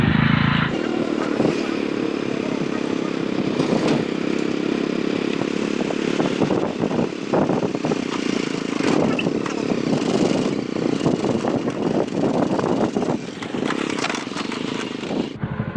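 A motorcycle engine runs loud and close throughout a night ride on the road, a continuous droning roar with clattering and rattling mixed in.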